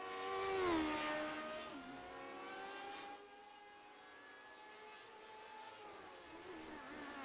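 A Lotus 79 race car in a retro racing game screeches as it brakes hard and its tires lock up, a loud falling squeal over the engine note that fades into a steady tone under a sustained drone.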